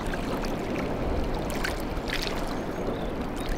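Close, steady splashing and churning of sea water on the Karpaz Peninsula, a continuous broadband wash like waves lapping against a hull or shore.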